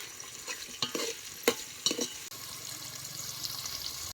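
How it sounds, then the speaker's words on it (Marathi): Onion and tomato frying in a pan with a few stirring scrapes and light sizzle, followed by a steady faint frying hiss, close and quiet with no talk. "कांदा आणि टमाटो भाजत आले आता राहिलेली भाजी आहेत भाजून घ्यायच्या"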